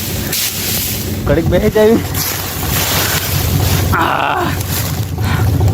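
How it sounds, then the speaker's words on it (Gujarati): A tractor engine runs steadily outdoors, a low continuous rumble mixed with gusty wind noise, while someone speaks briefly over it. "ભાઈ ટ્રેક્ટર ચાલુ કરી દીધું ને"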